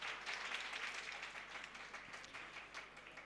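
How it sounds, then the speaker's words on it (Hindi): A crowd at an Odissi classical dance event applauds the dance centre's directors with dense, steady, loud clapping that holds unbroken throughout, eases off only slightly toward the end, and has no voices over it. "उनके लिए भी एक जोरदार तालियां हो जाए।"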